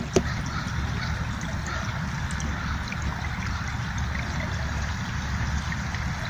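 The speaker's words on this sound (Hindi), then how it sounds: "ये देखिए, ये एक और जगह से पानी निकल रहा है।" Water trickling from the ground at a natural spring in a conservation area, a soft continuous babbling flow with low outdoor ambience and no talk.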